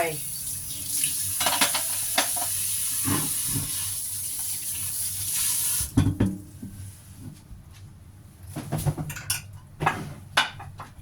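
Hot oil sizzles loudly over chopped shallots, garlic and ginger for a Thai steamed taro and pork rib dish, a steady hiss that cuts off abruptly, followed by quieter clinks and scrapes of utensils.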